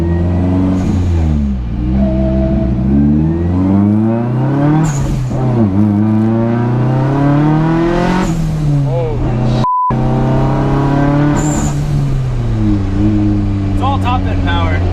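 A fast modified car with a swapped drive shaft, heard from inside, its engine revs hard through repeated rising gear pulls with brief shift dips, loud and close, while people talk over it.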